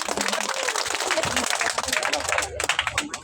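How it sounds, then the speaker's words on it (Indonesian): A school audience at a language month opening ceremony claps in a sustained burst of dense clapping that tapers off toward the end, with talk mixed in. "Ya, tepuk tangan dulu."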